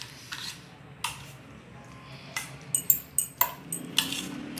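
Curd being stirred together with other ingredients in a bowl for a curd sandwich filling, heard as a run of quick spoon scrapes and light clinks against the bowl, growing sharper and more frequent toward the end.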